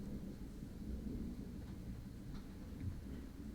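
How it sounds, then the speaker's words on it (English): Rain and thunder outside, a low steady rumble with a continuous wash of rainfall throughout, fairly faint and with no voices. "It's raining."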